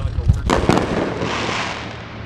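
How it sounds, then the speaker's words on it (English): Fireworks going off all around on the night of July 4th, heard from a bicycle: sharp bursts and pops near the start, then a rolling crackle and hiss that fades, with a voice faintly present. "there's some fireworks just getting shot off pretty much everywhere"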